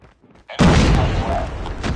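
A grenade blast and gunfire in Call of Duty: Mobile, in a Capture the Flag match on the Crash map: a sudden loud boom at about half a second, then a dense sustained roar of blast and shots.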